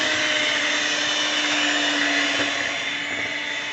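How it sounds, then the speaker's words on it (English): A stand mixer kneads bread dough for pepperoni, cinnamon and hot rolls, giving a steady, loud motor whir with a faint straining tone, continuous and close, no voices. "the mixer's getting ready to start choking"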